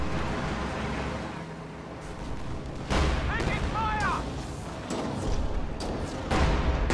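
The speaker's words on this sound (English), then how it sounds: "Just called in Armor Company artillery barrage on the Schwerer Panzer headquarters." An artillery barrage thunders in a WWII strategy game, with loud repeated booms and gunfire-like bursts rolling over continuous battlefield rumble, several heavy impacts clustered in the second half.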